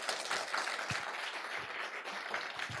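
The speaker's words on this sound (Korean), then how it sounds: "오늘 발표해 주신 세 분께 다시 한번 박수 부탁드립니다." Applause from the audience at a blockchain mainnet launch event in Seoul, a faint, even patter of clapping hands spread across the whole stretch, distant and without voices.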